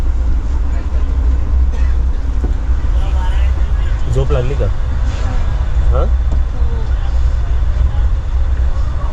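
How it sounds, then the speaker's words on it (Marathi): A steady, loud low rumble and clatter fills the interior of the moving Tari Express passenger train throughout, with people talking nearby over the running noise. "ट्रेन आमची एकदम चांगली आहे बघा"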